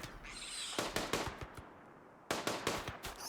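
Rapid bursts of gunfire crackle in the colony-survival video game RimWorld during a fight, two clusters of quick shots with a short lull between, fairly quiet and without talk.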